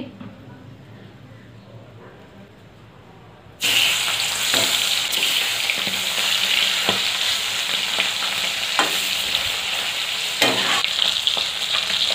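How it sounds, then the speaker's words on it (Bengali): Fish frying in mustard oil in a wok: after a quieter opening, a loud, steady sizzle bursts in and continues up close with occasional crackles and stirring clicks. "মাছ ভাজার জন্য কড়াইতে আমি সরষের তেল দিয়ে দিচ্ছি।"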